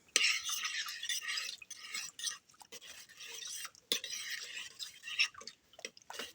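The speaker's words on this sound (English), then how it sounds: "And mix that all up." Stirring a mixture for a crock pot dish of unstuffed peppers gives a soft, wet, scraping swish in two bursts with brief pauses, close by and with no talk.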